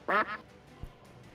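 A duck sound effect: two quick, loud quacks close together at the start, then near silence with a faint low thump.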